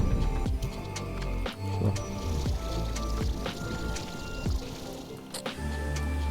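Water splashes and squishes in the video game Slime Rancher 2, a run of wet drips and sloshy pops at irregular intervals over a low game rumble, moderately loud with no voices.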